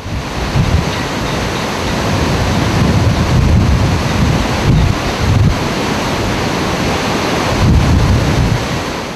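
Hurricane Katrina storm surge in Gulfport, Mississippi, with the Gulf of Mexico flooding a hotel parking lot: loud, continuous roaring wind buffets the microphone over crashing surf and rushing water, steady throughout with heavier gusts.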